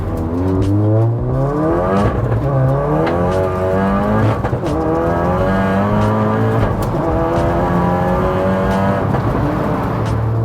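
A BMW E92 M3 sports car engine revs hard and accelerates repeatedly, pitch climbing through the gears, loud and close with no talking.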